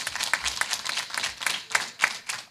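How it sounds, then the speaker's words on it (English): Audience at a gubernatorial town hall claps for the moderator, a dense patter of many hands heard nearby and moderately loud, with a few sharper claps standing out throughout. "Can we give Mr. Glover a strong hand clap?"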